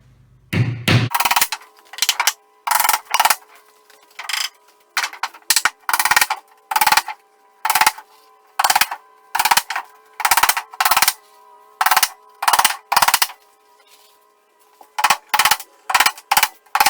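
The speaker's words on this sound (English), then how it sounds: "the nails that we're using to attach the plywood to the floor is a 2-inch galvanized Ardox nail" Galvanized 2-inch Ardox nails are hammered into a weathered plywood shed floor: sharp, loud, close hammer blows in quick bursts of two to four strikes, separated by short pauses, with no talk.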